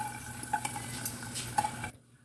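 Cashews fry gently in a pan over a low flame, a soft sizzle under light stirring clinks and scrapes of a spoon against metal, ending abruptly in near silence.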